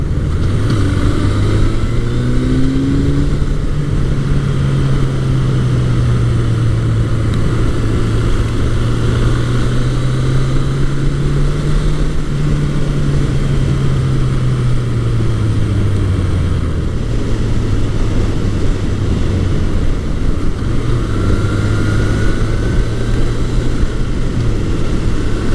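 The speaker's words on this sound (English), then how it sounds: "This bike is relatively quiet with the stock exhaust." A 1981 Suzuki GS1100E four-cylinder motorcycle with stock exhaust cruises along, its engine note droning steadily with gentle rises and falls through the revs, fairly quiet under constant wind rush.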